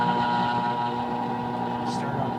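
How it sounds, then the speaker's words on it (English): A Hammond OK-12 three-phase dual head pedestal grinder, strapped to a pallet, hums steadily and loudly with a strong tonal motor whine, plus a brief faint hiss near the end. "Start up dual head grinder"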